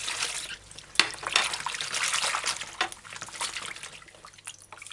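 Broccoli being swished in a bowl of vinegar water, a steady wet sloshing and trickling with a few small splashes and clinks, close and fairly quiet with no talking.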